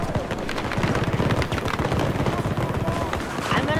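Rapid automatic gunfire from the Battlefield 2042 video game rattles steadily in dense bursts throughout, loud and continuous, with a voice faintly present under the shooting.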